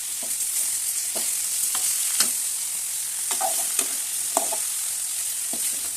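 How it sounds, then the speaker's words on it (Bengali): Fish head and potatoes frying in a pan on a home kitchen stove, with a continuous loud sizzle and scattered sharp spatter pops and stirring taps close by. "এদিকে মাছের মাথা ভাজা হয়ে গেছে, আলুগুলো একটু ভেজে নেব।"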